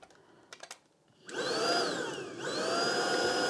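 A Tineco Pure One X cordless vacuum cleaner switches on after a few faint clicks, its motor whining up to a loud, steady hum that dips in pitch briefly and then holds, close by with no talking.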